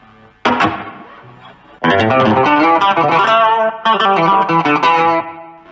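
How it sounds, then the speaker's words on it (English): Electric guitar notes and chords played through a Vox VX15GT amp with a splashy spring reverb effect, loud and close, with ringing tails between phrases. "Spring reverb."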